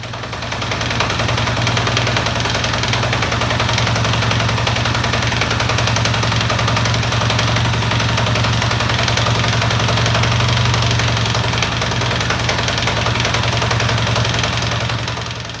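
A Honda Goldwing motorcycle engine runs on full choke, giving a loud, steady, close idle with a low droning hum and constant mechanical clatter throughout.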